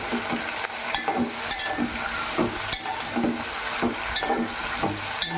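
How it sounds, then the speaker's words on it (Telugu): A ladle scrapes and knocks rhythmically through brinjal garlic-chili curry in a pan, repeated stirring strokes over a steady frying sizzle. "బాగా తిప్పుకుందాం గరిటె పెట్టి."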